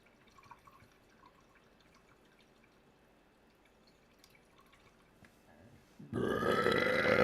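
A loud burp erupts abruptly near the end after several seconds of quiet background with faint drips and small noises.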